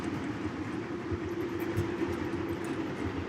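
A model railroad train, a PFE freight with wood and steel-sided cars, rolls along the track with a soft, continuous rumble and faint rhythmic clicking. It is fairly quiet and steady, with no talk over it.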